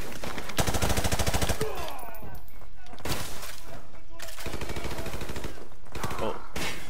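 Rapid automatic gunfire bursts in Call of Duty Modern Warfare Remastered, with loud repeated shots, brief pauses and shell clatter, and voices talking over the action.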